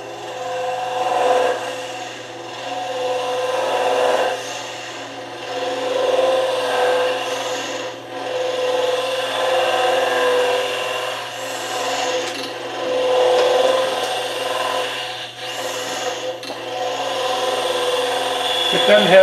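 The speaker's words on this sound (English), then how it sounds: "You can use a gouge, you can use a round nose scraper." A gouge or round nose scraper cuts soft wood spinning on a lathe, a steady rasping scrape in uneven passes that swell and fade across the whole stretch, with no talk over it.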